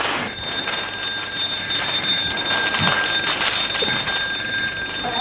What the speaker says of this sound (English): This is the mechanical low alarm.